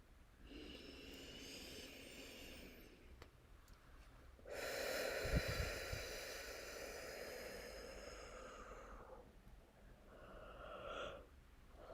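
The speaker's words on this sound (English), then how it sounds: "I got a big yawn on that one." A single big, drawn-out human yawn with a breathy, voiced swell that rises and fades over several seconds, loud and close against a quiet, hissy background.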